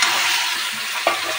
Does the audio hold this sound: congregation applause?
no